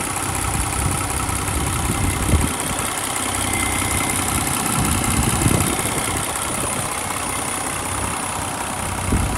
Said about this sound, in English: I'm gonna stay quiet so you can hear the engine sound.